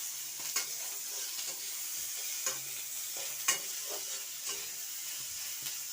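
Chopped onions fry in a pan over low, continuous sizzling, with soft scraping and knocking of a stirring utensil recurring every second or so, fairly quiet and with no voices.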